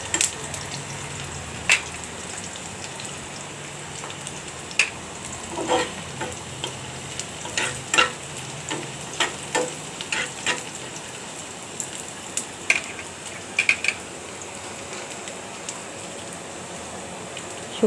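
Chopped onion frying in a pan for a jute-leaf dal, with a steady, fairly quiet crackle and a scatter of sharp clicks and scrapes as a spatula stirs it repeatedly, no voices.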